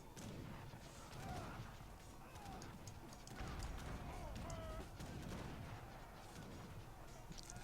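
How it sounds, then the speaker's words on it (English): Heavy cannon shots ring out in a multiplayer video game match, a rapid series of booming blasts and crashes layered with background battle noise, fairly steady throughout. "Some good heavy cannon shots from Gichtenlord"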